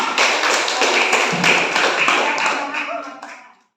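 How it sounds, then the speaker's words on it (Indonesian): A class of students applauds in a classroom. The clapping is steady and dense for about three seconds, then fades out quickly. "Berikan tepuk tangan."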